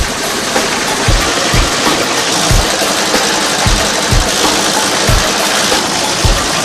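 A shrimp cracker cutting machine runs with a sharp blade slicing stiffened, stick-like shrimp cracker dough. It gives a steady mechanical whir with regular heavy thumps roughly every half second to second. No one speaks.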